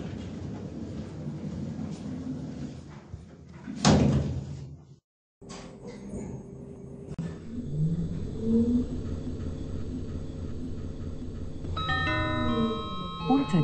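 Elevator doors slide shut in a Roblox mall with a parking garage, a brief rising whoosh near the middle followed by a short gap, then ambient lift hum with a chime-like tone toward the end.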